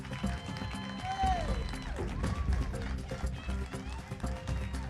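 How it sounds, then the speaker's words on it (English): Steady, dense applause from a pageant audience at the Miss Grand USA 2019 final show, with crowd voices and talk running underneath for the whole stretch. "Let's give them a round of applause."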